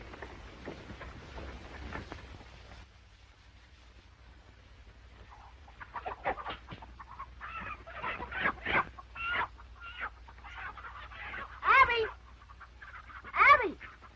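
Chickens cluck and squawk in short irregular bursts, growing louder and busier toward the end, in an old Western film scene with people talking around them.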